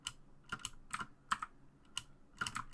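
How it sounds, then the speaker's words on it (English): Mechanical keyboard keys clicking in sharp, irregular bursts of single and double taps, close and fairly quiet, with no talking. "my girlfriend did not like the clicking of the mechanical keys"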